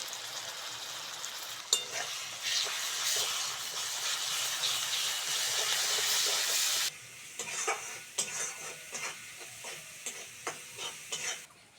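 Onions frying in a pan with ginger-garlic paste, chili powder, turmeric and salt for a village-style soybean egg curry, giving a steady loud sizzle with scraping stir strokes, then a softer crackle with repeated stirring taps; no talk.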